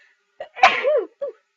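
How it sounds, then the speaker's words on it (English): One close, sharp sneeze with a quick intake before it and a short vocal trailing sound afterward. "Sneezes."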